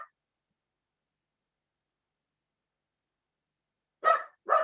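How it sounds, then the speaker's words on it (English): A pet dog barks twice in quick succession near the end, sharp and close after a long quiet stretch, with a faint short yelp at the very start. "My dog is just going crazy."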